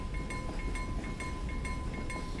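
A train approaches in the video game Call of Juarez: The Cartel: a steady, dense rumble carries a sustained ringing tone and evenly spaced metallic clacks, with no talk over it.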